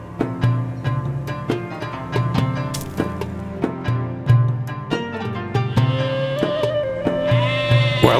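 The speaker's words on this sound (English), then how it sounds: "while Abel tended sheep" Sheep bleat repeatedly over a rhythmic musical backdrop, several loud, close calls spread across the passage.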